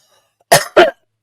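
A person coughs twice in quick succession, close and loud, with sharp harsh bursts and near-silence around them.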